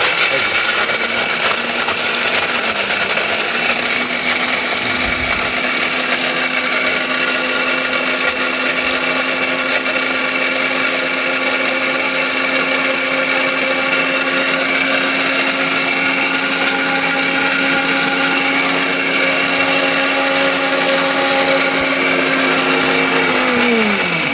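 A powerful blender grinds turmeric and spices, its loud, steady motor whine running for the whole stretch with a brief dip early on, then winding down at the end.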